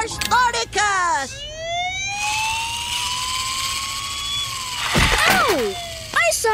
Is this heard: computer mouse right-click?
no